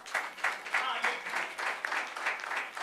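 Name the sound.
congregation applauding in church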